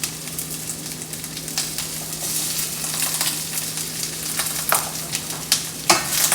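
Grape tomatoes and summer squash sizzling in a hot pan, a steady bright frying hiss throughout with occasional scraping stirs and pops growing a little louder near the end.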